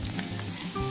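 Garlic fries in a pan, giving a brief, steady sizzle that is close and continuous, with faint stirring sounds mixed in.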